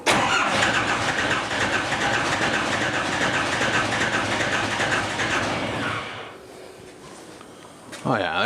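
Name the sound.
Cummins 4BT diesel engine starting in a 1968 Ford Bronco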